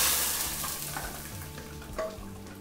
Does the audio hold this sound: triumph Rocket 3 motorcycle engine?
no